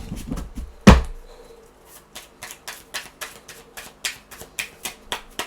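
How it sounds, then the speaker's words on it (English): Tarot cards being shuffled by hand, a sharp knock near the start followed by a steady series of soft, crisp riffling clicks, close and quiet, no talking. "I have to vamp while I shuffle your cards."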